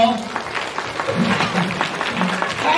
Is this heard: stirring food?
no